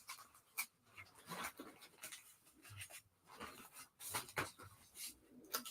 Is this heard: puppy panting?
yes